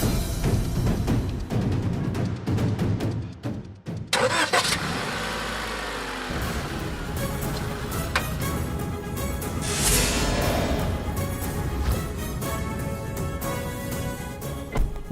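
A car engine cranks and catches in a Telugu TV drama scene, after the car had failed to start for an hour. It turns over and then settles into a steady running rumble, loud and close, under a continuous music bed.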